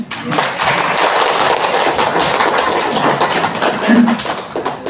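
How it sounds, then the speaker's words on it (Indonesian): Audience clapping in a room during a school training session on positive culture, a dense, steady wash of many hands lasting throughout, fairly loud and close, with faint voices underneath. "Coba kita tepuk tangan dulu."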